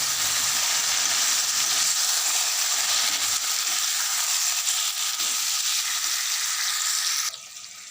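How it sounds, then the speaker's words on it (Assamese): Chicken marinated in ground mustard paste and spices sizzles in hot oil in a kadai. The frying hiss is loud and continuous, then drops away abruptly at the end. "এতিয়া আমি মাংসখিনি তেলত দিম"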